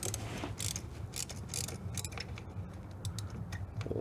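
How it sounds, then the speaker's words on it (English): A handheld finger ratchet tool turns while tuning up a 2003 Jeep Liberty 3.7 V6, giving a steady, close run of fine clicking ticks with no talk over it. "A handheld finger ratchet tool."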